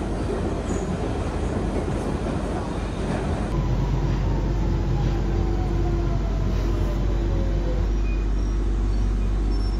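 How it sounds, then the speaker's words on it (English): A London Underground Central line train to Hainault via Newbury Park rumbles loudly, heavy wheel noise giving way to a steadier hum with faint squeals and whines as it runs. "Central line train to Hainault by Newbury Park"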